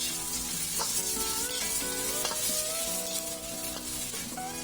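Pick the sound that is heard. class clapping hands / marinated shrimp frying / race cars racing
marinated shrimp frying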